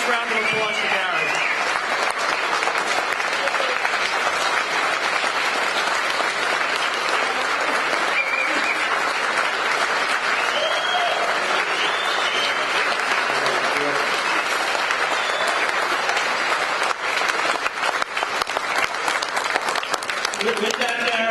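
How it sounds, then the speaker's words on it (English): A standing audience at a banquet dinner at Caesars gives sustained, dense applause, with many hands clapping steadily and fairly close, and some voices in the crowd underneath. "Let's stand and give a nice round of applause to Gary."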